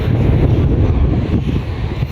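Blustery wind at the seaside in Northern Ireland buffeting the microphone with a deep, continuous rumble, loud and unbroken, with no voices.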